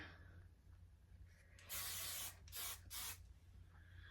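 Short bursts of lightweight hairspray from an aerosol can, three loud hissing sprays in quick succession, the first longer, then two brief puffs, close by in a quiet room.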